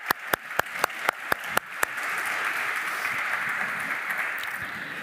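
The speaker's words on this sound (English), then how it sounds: "I would like to welcome you by a round of applause" Applause at an international conference honouring a human rights prize laureate: several sharp, loud claps come first, then a dense round of clapping from the audience that holds steady, with no talk over it.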